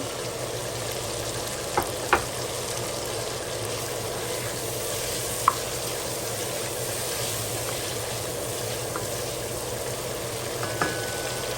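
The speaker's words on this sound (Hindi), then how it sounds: "बस 2 मिनट आलू हम भूनेंगे, फिर बाकी चीज़ें डालेंगे।" Potato pieces frying in a pan with oil, a steady low sizzle running throughout, broken by a few faint clicks and scrapes of stirring.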